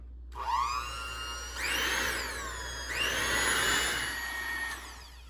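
An electric hand mixer mixes cupcake batter, its motor whirring up in speed, then surging louder in two sustained bursts over a low steady hum, close and alone without any talking.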